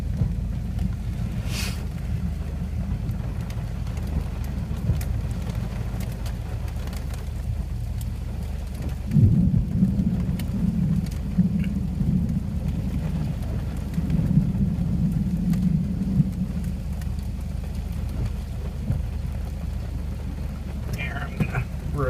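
Thunderstorm with rain heard from inside a car, wipers on, with lightning nearby; steady rain patter and low rumbling thunder under a continuous wash, with a louder roll partway through.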